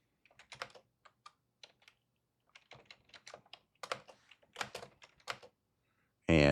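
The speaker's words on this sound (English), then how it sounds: "And let's type double speed here." Key presses on a computer keyboard come in uneven bursts, sparse at first, then faster and louder, ending with a sudden loud noise.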